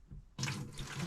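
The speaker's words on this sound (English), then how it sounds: "I'll just pour it from jug to jug to jug" Chlorinated water, dosed with shock treatment for disinfecting, pours from one water jug into another at a remote Alaska cabin, starting abruptly as a close, steady splashing gush that continues without a break.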